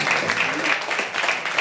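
Applause from an audience at an open mic music night, steady clapping throughout the short moment with a voice faintly mixed in.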